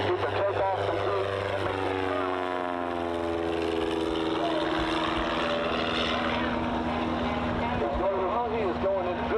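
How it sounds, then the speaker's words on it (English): A STOL propeller plane taking off at full power at a STOL competition in Arkansas, a loud, steady droning engine and propeller roar whose pitch sweeps as it passes, heard continuously under an announcer's voice. "They're doing all the power to get off and get the takeoff complete."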